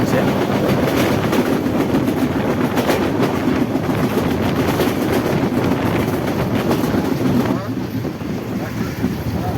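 A train runs at speed on its way into Kishoredi station, with loud continuous rumbling and rushing wind noise that drops slightly near the end.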